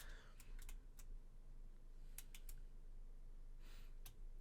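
A mechanical keyboard typed on in short irregular bursts of crisp clicks, close to the microphone over a steady low background hum.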